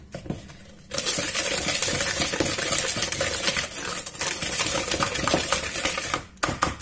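Egg whisked into a butter mixture in a bowl for almond croissants, a dense rapid clatter of whisk against the bowl running continuously after a quiet start, close and steady.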